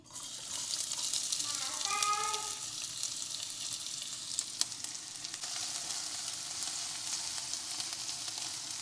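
Chopped onion fries in hot oil with mustard seeds for cabbage thoran, making a continuous close sizzle with scattered pops, while a voice briefly sounds faintly underneath.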